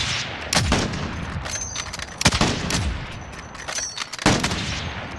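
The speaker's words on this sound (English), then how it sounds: "Try to shoot through the wall." Heavy .50 caliber rifle shots fired through a wall: several sharp, loud reports at irregular intervals, each with a broad crack and short decay, over a steady background rumble.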